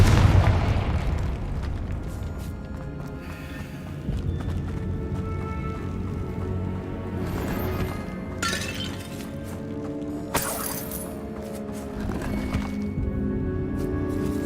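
A Confringo fire spell from the video game Hogwarts Legacy bursts with a loud blast at the start, followed by crackling debris, rumbling impacts and later sharp shattering bursts over a steady game score.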